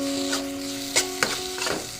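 Ginger garlic paste fries in hot oil in a pan with a soft, steady sizzle, broken by a few sharp scrapes and knocks of a spoon stirring, close and fairly quiet.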